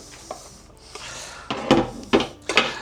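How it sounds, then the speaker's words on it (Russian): Apples being sliced with a knife for stewing in a saucepan: a few sharp cutting strokes and knocks on a board, spaced irregularly and growing louder toward the end, close by with no talk. "И сейчас мы порежем яблоки и отправим в кастрюльку."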